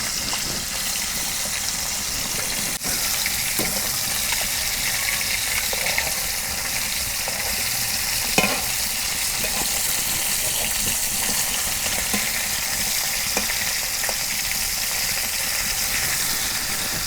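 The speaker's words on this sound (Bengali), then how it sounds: "আমার তাওয়া নাই, তার মধ্যে মাছ ভাজি।" Pieces of brick fish fry in oil in a pan without a tawa, giving a steady, loud, continuous sizzle with a few faint clinks, and no talking.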